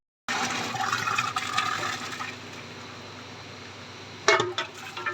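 Water pours into a pot of lentils on the stove, a steady gushing splash for several seconds that tapers off, followed by a sharp clink near the end.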